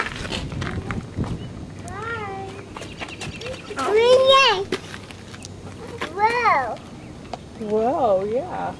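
A person imitates a rooster, giving several drawn-out crowing calls with rising and falling pitch, spaced across the stretch, loud and close, with a voice and other talk mixed in between.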